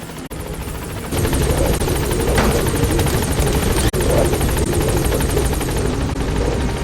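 Helicopter lifting off in Metal Gear Solid V, a steady loud rotor drone with rapid blade chop that swells after the first second and holds continuous, with a brief dip near the four-second mark.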